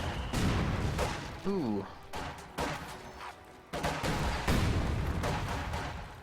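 Mortar and gunfire explosions in a World War II strategy video game rattle and boom repeatedly in dense bursts, with someone commentating over them and briefly exclaiming.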